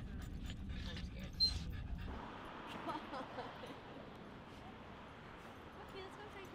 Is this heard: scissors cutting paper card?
no